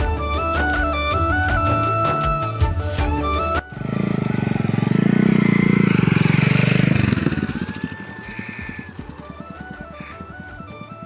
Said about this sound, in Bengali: আর একটু পরে আমরা বাইকটা একটু ছোট করে রাইড দেবো